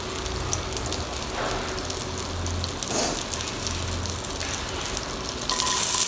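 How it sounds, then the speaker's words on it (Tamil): Chopped onions fry in hot oil for Chettinad paneer, a steady close sizzle with faint stirring scrapes and no talk, growing a little louder near the end. "இப்போ எண்ணெய் சூடானோன்னா நம்ம வெட்டி வச்சுருந்த வெங்காயத்தை போட்டுடலாம்"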